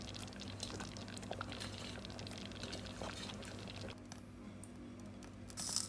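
Dal of lentils simmers in a pot with a soft, continuous bubbling and liquid churn under a low steady hum, with a brief brighter hiss near the end.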